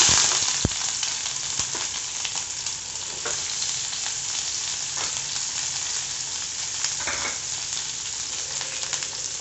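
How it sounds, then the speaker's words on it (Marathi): Chopped onion frying in hot oil in a pan for a smoky brinjal bharta, a continuous close sizzle with occasional light taps and scrapes from stirring, steady and fairly loud with no voices. "व्यवस्थित परतून घेणार आहे. फार ब्राऊन मला नको आहे कांदा"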